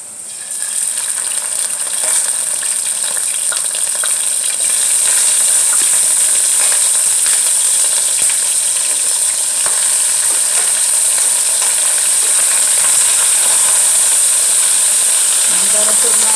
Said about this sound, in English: Gonna add in my shrimp.